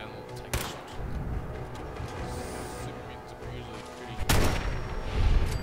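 Gunfire in Fallout 4 as a super mutant is shot, with two sharp, loud bursts standing out from a busy game backdrop of rumble and ambience.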